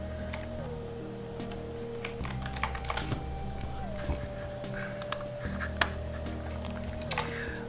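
Linux commands are typed on a computer keyboard in quick, irregular bursts of soft key clicks over a steady low hum.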